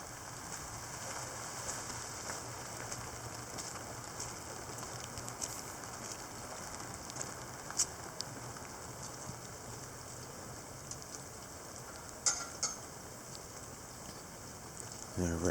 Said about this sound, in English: This is the type of rainfall I'm talking about that I need for a test.